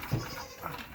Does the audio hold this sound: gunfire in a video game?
no